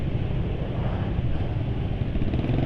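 A car engine running on mineral oil idles with a smooth, even low hum, steady and fairly close, with no revving or changes.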